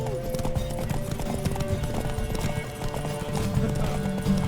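Horse hooves clip-clop steadily in The Witcher 3 video game, a continuous close rhythmic trot layered over game ambience and a faint background score.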